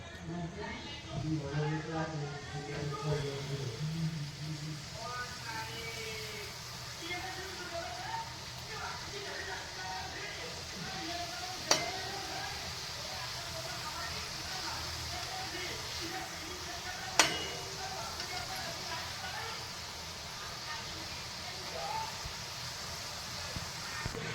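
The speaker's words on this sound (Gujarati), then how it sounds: "એ રીતે આપણે બધા તળી લઈશું" Fafda, a Gujarati snack, frying in hot oil in a home kitchen: a steady, rain-like hiss and crackle throughout, with someone talking over it at first and two sharp pops midway.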